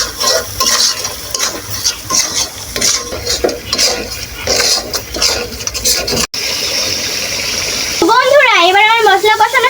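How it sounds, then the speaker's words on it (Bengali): Green chilies and bay leaves fry in a pan and are stirred with clattering, scraping strokes for several seconds, loud and close. The scraping fades toward the end, and a tonal sound follows. "এবার আমি ভালোভাবে নেড়ে নেব।"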